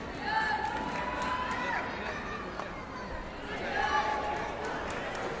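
A noisy crowd fills an indoor sports complex during a Sepaktakraw World Cup match in Bihar, India, a steady roar of chatter and shouts with swells of cheering and occasional whistles.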